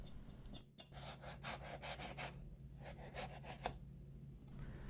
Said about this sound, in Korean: 칼을 사용해서 꼭지를 제거한 뒤에 반으로 갈라줍니다.